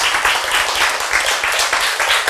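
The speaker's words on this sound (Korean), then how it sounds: "박수!" A congregation claps together in a church service, a dense burst of close applause lasting a couple of seconds with no talking over it.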